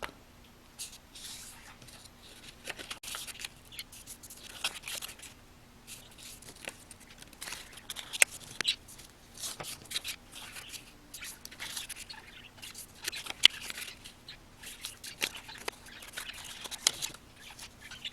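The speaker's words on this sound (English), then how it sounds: "you want to start folding them horizontally and vertically with the seed pattern facing up" Soft rustling, creasing and crackling of patterned paper sheets being folded horizontally and vertically for a handmade star book, close up and continuous with small irregular crinkles.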